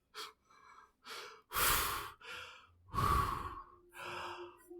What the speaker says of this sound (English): Ivy is breathing.